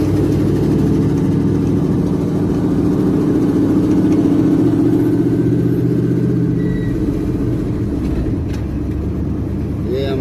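A car with a clutch that is acting up idles close by, its engine holding a steady low rumble throughout while someone talks over it.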